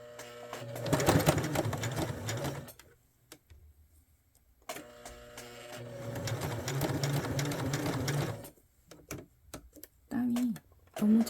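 Sewing machine stitching fabric, running in two long bursts of rapid mechanical whirring separated by a pause, then short stops and starts, close and clear with no talk.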